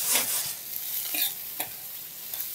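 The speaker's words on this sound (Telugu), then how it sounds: "దాదాపుగా మన పోపు అంతా వేగిపోయింది" Green chillies and curry leaves crackle and sizzle in hot oil for a South Indian tempering, a steady bright frying hiss with a few stirring scrapes, close and alone.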